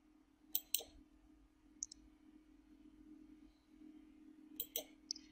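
A computer mouse clicking while drawing a layout in software: a few quick, faint, close clicks in two small clusters, one near the start and one near the end, over a quiet steady hum with no talking.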